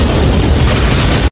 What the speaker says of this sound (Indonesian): tak lama kemudian, bom meledak.